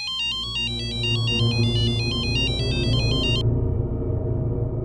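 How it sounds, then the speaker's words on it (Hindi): A telephone ringtone plays a repeating electronic melody loudly for about three and a half seconds, then stops, leaving a low room rumble with background music underneath. "फोन बज रहा है, उठा जा।"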